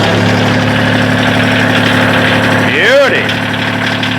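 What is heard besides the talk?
Kioti tractor diesel engine idling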